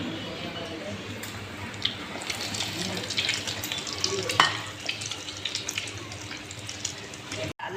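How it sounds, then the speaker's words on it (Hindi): Shami kababs frying over lowered heat in hot oil, a moderate bubbling sizzle with scattered pops and an occasional utensil clink, fairly close, ending in a sudden cut. "तेज़ गरम ऑयल में, हमने ये डाले थे, और फिर हमने इसकी आंच धीमी कर दी है, ताकि ये अंदर तक फ्राई हो जाएंगे।"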